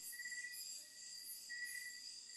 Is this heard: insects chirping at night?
yes